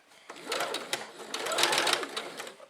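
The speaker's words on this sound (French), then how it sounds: "l'aiguille de la machine se rapproche de l'épingle" A sewing machine stitches fabric in a short close burst, a rapid mechanical chatter that rises and falls over a few seconds.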